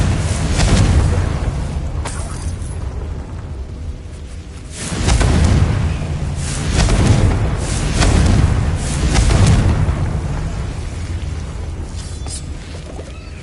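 In a Harry Potter video game, Confringo and Bombarda spells set off a string of loud, deep booming explosions. Roughly four heavy bursts swell and fade one after another over a low rumbling bed.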